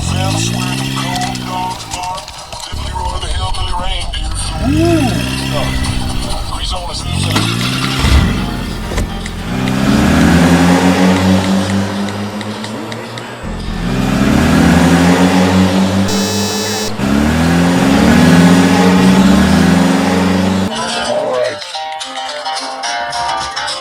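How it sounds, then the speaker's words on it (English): An engine fires up and revs in repeated rising surges, loud and close, with voices heard over much of it. "Engine fired up."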